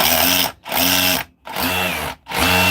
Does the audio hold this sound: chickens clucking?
no